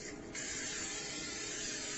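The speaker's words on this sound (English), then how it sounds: "I'm going to use some of my cooking spray." Cooking spray hisses from an aerosol can into a baking dish for a chicken and cauliflower bake, one steady, continuous close-up spray lasting about two seconds with no talking.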